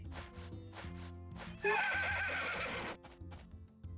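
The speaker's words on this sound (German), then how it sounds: "So, Pferd auch noch streicheln." A horse neighs loudly in the farming video game Story of Seasons: A Wonderful Life, a bright whinny lasting about a second over looping background game music, with soft clip-clop hoof sounds around it.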